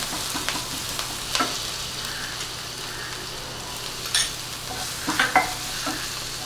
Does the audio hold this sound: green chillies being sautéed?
yes